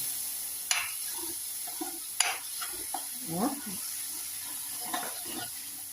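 Masala for a mutton curry fries softly in a wok, a low sizzle broken by several sharp stirring clinks and scrapes of a spatula against metal.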